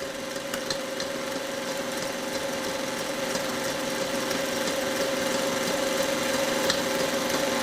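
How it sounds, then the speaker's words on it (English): An electric stand mixer beats egg yolks with sugar, a steady, even motor hum running throughout with faint whisk rattling, moderately close and with no talking. "you're going to want to stop the mixer, scrape the bowl, and then beat the yolks again at high speed"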